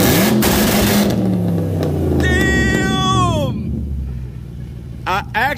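A tuned Audi 4.2 V8 on two-step launch control holds a loud, high idle-rev drone, then fires rapid crackling bangs near the end, with voices in the background.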